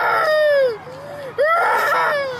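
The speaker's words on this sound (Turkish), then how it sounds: "Neden ağlıyorsun küçük? Bir yerin mi acıyor?" A small child cries in two loud, wavering wails separated by a short pause, the sobbing close and clear over a quiet background.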